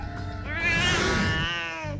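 A cat gives one long, drawn-out meow that rises and falls in pitch, fairly close and clear over a steady background hum, with no talking during it.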